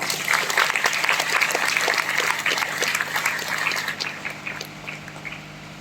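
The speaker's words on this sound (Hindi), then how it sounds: "एक जोरदार ताली" An audience bursts into loud, sustained applause, dense clapping close by that fades gradually toward the end.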